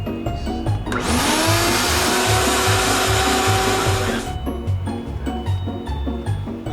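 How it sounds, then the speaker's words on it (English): A vacuum sucks metal shavings out of a septic pump pit. It roars up suddenly for about three seconds of loud, rushing, whining suction over a rumbling engine background, then cuts back to the engine. "we're going to suck out the pit, get the rest of the metal shavings out of there that we can"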